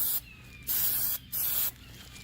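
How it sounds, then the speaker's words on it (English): Spray paint hisses from an aerosol can during a light first coat, three short close bursts with brief pauses between them. "just keep the first coat nice and light, spraying all the way around"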